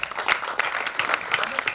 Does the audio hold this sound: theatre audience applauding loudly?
yes